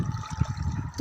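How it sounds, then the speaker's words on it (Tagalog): Strong wind and sea waves at the shore, with a short stretch of sloshing, churning water and rushing air, near and fairly loud. "Lakas po kasi ng hangin, lakas ng alon."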